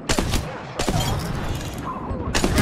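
Airstrike explosions in Apex Legends, three sharp booming impacts spaced about a second apart, loud and close, each followed by a rumbling tail.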